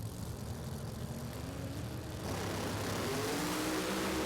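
Pro Mod drag cars at a British Drag Racing Championship round launch down the strip, a distant engine roar that swells partway through into a louder rising drone with climbing engine tones, no talk.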